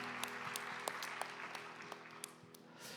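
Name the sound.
congregation applause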